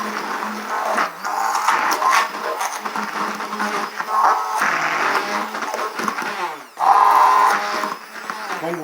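A hand blender whirring through homemade mayonnaise as the oil is worked in, a continuous close motor drone with shifting pitch and a brief dip before it surges again.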